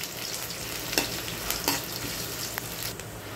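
Onions sautéing in a pan, a steady close sizzle with a few scraping stirs of the spatula breaking through.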